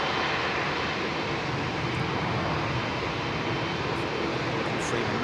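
An ANA Boeing 777 jet airliner approaching at London Heathrow, a steady broadband engine roar filling the whole clip at constant loudness, with no voices over it.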